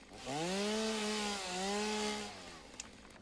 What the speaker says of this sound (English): Let's put a chainsaw on. Get rid of some of this crap.